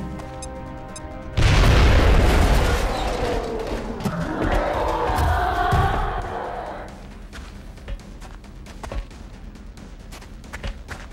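A frag grenade detonates in the XCOM: Enemy Unknown video game, a sudden loud boom that rolls into a long rumbling tail of debris and crackle before fading, followed by scattered faint clicks and game effects.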